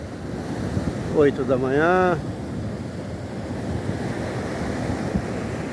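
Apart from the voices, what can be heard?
sea waves at Grussaí beach, Rio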